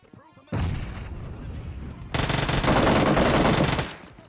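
Gunfire in PUBG Mobile: dense, loud volleys of shots start abruptly, then swell into an even heavier, sustained barrage before cutting off.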